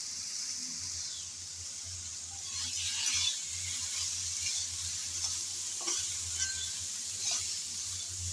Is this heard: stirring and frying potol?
yes